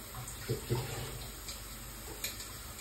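Food is washed under a running kitchen tap, a faint, steady trickle of water with a few soft splashes and clatters, quiet and close with no talk.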